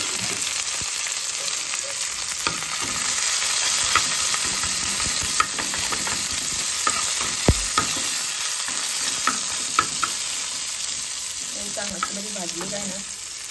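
A tadka with coriander sizzles and fries in a pan while being stirred, a continuous loud hiss broken by scattered spoon clicks and scrapes against the pan, with no talking.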